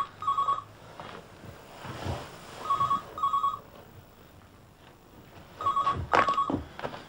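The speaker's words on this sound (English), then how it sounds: "Can he answer that phone?" Telephone ringing in repeated double trills, three clear bursts spaced a few seconds apart, moderately loud in a quiet room with faint background movement between the rings.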